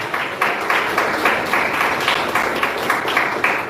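A church congregation claps hands in steady rhythmic unison during worship, a regular beat of roughly two claps per second over a soft crowd background.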